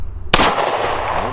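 A Taurus Model 85 .38 Special five-shot revolver fires one loud, close shot with a sharp crack, followed by a long ringing echo that fades slowly outdoors.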